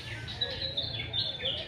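Small birds chirp and tweet in quick, overlapping calls beside the sea at sunrise, with soft background noise underneath and no clear voices.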